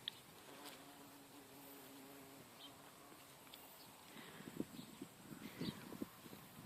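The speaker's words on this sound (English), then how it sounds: "It's a bumblebee this time." A bee's low buzzing drifts close, swelling and fading in short bursts over quiet outdoor background, with faint birdsong.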